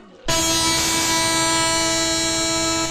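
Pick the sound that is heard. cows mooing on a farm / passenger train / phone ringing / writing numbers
passenger train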